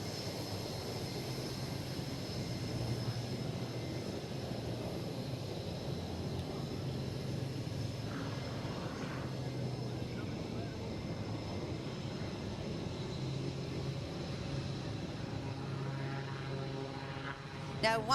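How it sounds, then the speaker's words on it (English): Rhino Demo jet taxiing at the NAS Oceana air show, a steady broad engine rumble and whine lasting throughout, heard at a distance, with crowd or commentary noise faintly beneath. "we've got Rhino Demo taxiing by us"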